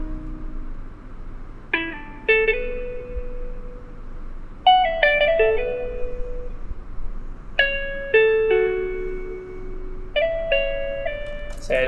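Guitar beat built only from VST plugins in FL Studio, a pain-style trap beat: plucked guitar-like notes fall in repeated bell-like phrases over a low, steady bed. The sound is moderately quiet and clear, with no talking.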